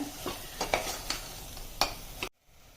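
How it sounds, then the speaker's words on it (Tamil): Spices sizzle softly in a pan for a sundakkai kuzhambu while a utensil scrapes and stirs in irregular strokes, then the sound cuts off abruptly. "எல்லாம் சேர்த்து ஒரு 2 நிமிஷம் வதக்கிடுங்க"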